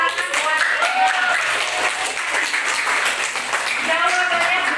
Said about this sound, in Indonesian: kita kasih tepuk tangan buat Iqbal